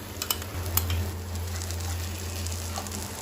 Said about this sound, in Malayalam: നമുക്കിതിലോട്ട് ടൊമാറ്റോ കെച്ചപ്പ് ഒരു 3 ടേബിൾ സ്പൂൺ ഞാൻ എടുത്ത് വെച്ചതാണ്, ഇത് ഒഴിച്ചു കൊടുക്കാം.